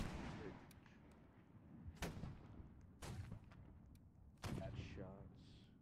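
Gunfire in a community battle game, several distinct sharp shots at intervals rather than one tight volley, fairly faint over a steady background of voices and rumble.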